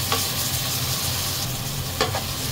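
Garlic, tomato, ginger and onion sautéing in a pan for a vegetable stir-fry, a close continuous sizzle with a couple of brief stirring clinks, no voices.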